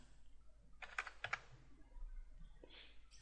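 Short bursts of typing on a computer keyboard while entering a measurement in CAD software, a few quick, close clicks followed by a softer key press, over a quiet room hum.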